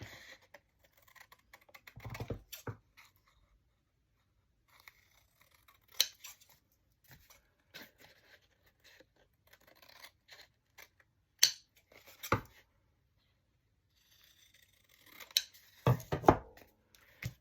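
Scissors snip and trim fragile paper in a few separate bursts of close, crisp cutting with quiet pauses between, during die-cut ephemera crafting.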